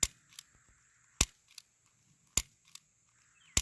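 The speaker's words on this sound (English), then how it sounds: "I'm holding it on target and I'm just slowly pulling through the trigger until it goes like that." A Taurus Spectrum .380 micro pistol fires four sharp, evenly spaced shots about a second apart, each one a brief crack standing out against quiet surroundings.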